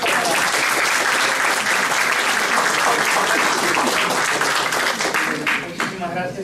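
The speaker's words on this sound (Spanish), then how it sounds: "Muy bien, un aplauso" A conference audience at a sports journalism event bursts into loud, continuous applause, with many hands clapping densely before it begins to taper near the end.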